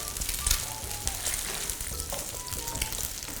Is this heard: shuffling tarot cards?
no